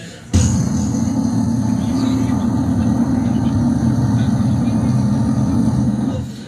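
A voice mimics a boat engine with a sustained low, rumbling drone that starts abruptly and holds steady before tapering off.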